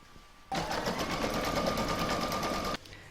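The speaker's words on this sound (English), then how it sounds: "I'm now going to load my hoop back into my machine and stitch round number 5." An embroidery machine stitches a design in the hoop for a scissor holder and pin cushion, running as a steady, close, fast mechanical whir for about two seconds before stopping.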